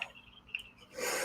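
A person sneezes during a relaxed online news-reading livestream, a short sharp burst of breath at the start followed by a louder breathy rush toward the end, close to the microphone with no talking.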